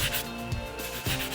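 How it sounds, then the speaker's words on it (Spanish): Sandpaper rubbed back and forth over a rusty Opel Frontera 2.2 DTi brake caliper, steady close gritty scraping strokes with short pauses between passes, no voices. "Deberemos coger lija"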